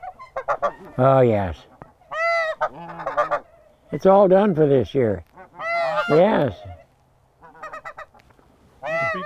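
Geese honk repeatedly near a nesting spot, loud and close, in bursts of layered calls with short gaps. A person speaks briefly between the calls.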